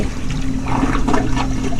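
Toilet flushing in a Roblox horror game, a short rushing gush of water heard up close and alone.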